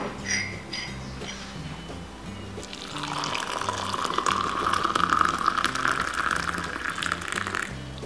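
Warm water pours steadily into a milk drink, a continuous bright splashing stream starting about three seconds in and running to the end over faint background noise.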